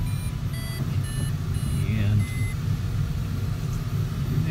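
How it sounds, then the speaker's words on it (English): Several high electronic beeps from glider variometers, steady tones and short pulses, chirp over a constant low rumble of wind and airflow, with a brief spoken word. "you may wonder why we've got all those beeping sounds going on. Those are variometers."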